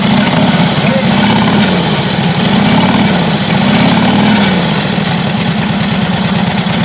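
A classic Harley Davidson motorcycle engine, just kick-started, runs loud and close in a steady lumpy idle with rhythmic low firing pulses and slight swells in revs throughout.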